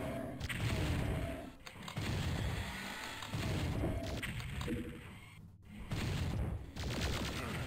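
Weapons fire at arachnotrons in Doom 64, dense rapid gunfire in loud bursts with short gaps between them, booming impacts layered through.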